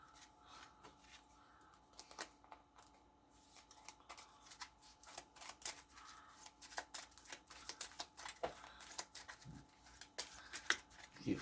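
A deck of playing cards riffled and bridged on a tabletop, the crisp rapid flutter coming in repeated bursts that grow busier and louder toward the end, with no voices.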